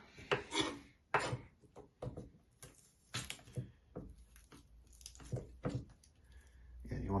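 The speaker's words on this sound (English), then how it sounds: "you want to take the flat side of the knife and push down on the garlic" Garlic cloves pressed and crushed with the flat side of a knife while cooking a vegetarian chili, giving a few soft knocks and rubbing scrapes, close and quiet, with a person talking throughout.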